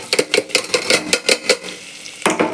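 Crushed ginger and garlic are sautéed in a pan, with a quick series of sharp scraping and clinking strokes of a utensil against the metal, then a short pause and a final stroke, all close and loud.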